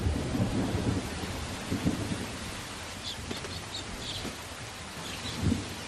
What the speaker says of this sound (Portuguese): o ciclone enfraquece e transforma-se numa enorme depressão chuvosa. O dilúvio percorre milhares de quilómetros até ao centro do continente